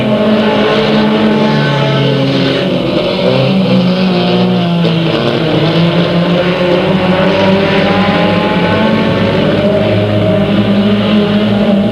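At Delta Speedway, race cars roar past continuously, a dense layered engine drone sustained near and loud with shifting pitches as the pack goes by.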